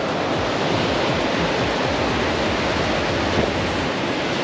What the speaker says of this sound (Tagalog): Ang lakas ng alon, hindi naman kami makapag-fishing.